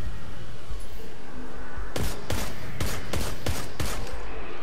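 Sniper rifle fire in Destiny 2: a rapid string of about seven sharp cracks, roughly two seconds in, loud over a steady game background.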